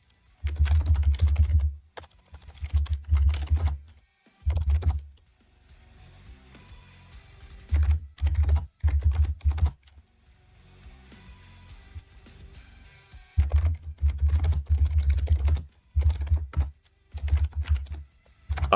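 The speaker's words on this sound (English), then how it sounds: "I'm typing, I can't talk." Rapid typing on a computer keyboard, heard up close in dense bursts of clattering keystrokes separated by short pauses, with no voices.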